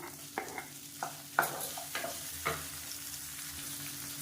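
Two medium tomatoes sauté in a pan, a soft sizzle broken by several distinct spoon scrapes and stirs against the metal in the first half, then a quieter steady frying hiss.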